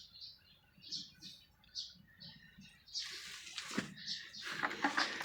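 Small pet munia bird giving a series of short, high chirps, close by, with brief splashy rustling and some background noise in the second half.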